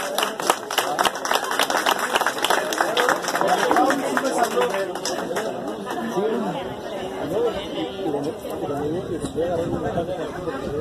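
Applause for women prize winners at a Christmas charity race award ceremony in Tonalá, with steady clapping and crowd chatter running throughout, moderately loud.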